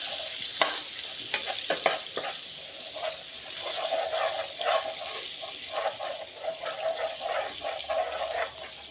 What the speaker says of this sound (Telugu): మనం ఆయిల్ వేసుకున్నాం కదండి, అలాగే ఇందులో కొంచెం బటర్ వేసుకుందాం. బాగా కలుపుకుందామండి బటర్ వేసుకొని.